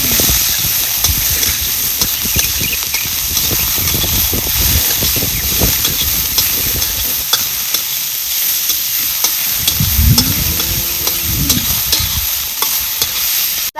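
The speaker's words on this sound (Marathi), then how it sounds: "आपल्याला कांदा भाजून घ्यायचा आहे म्हणजे लालसर असा भाजला पाहिजे कांदा" Chopped onion fries and sizzles in a hot pan as it is stirred until reddish, a loud continuous hiss with occasional scraping of the spatula, close up and without talking.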